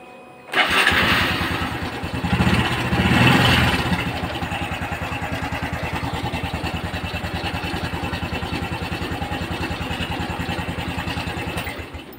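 A motorcycle with a freshly repaired battery cranks on its electric starter and catches, then settles into a steady, even idle close by, running alone without any voices.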